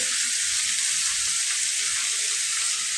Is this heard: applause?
no